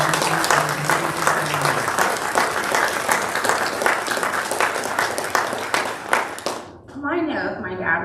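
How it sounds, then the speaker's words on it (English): A crowd at a Veteran's Day celebration bursts into steady, dense applause lasting several seconds, then the clapping drops away and a voice begins speaking. "please join me in giving a nice round of applause"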